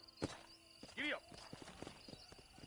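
Horse hooves clip-clopping in the Western video game Red Dead Redemption, with a short neigh and scattered hoof falls under ambient game sound, fairly faint and without talk.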